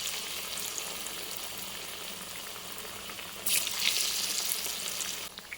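Bread bajji dipped in batter and frying in hot oil, a continuous close crackling sizzle that swells louder for a moment as another piece drops in, with no talking.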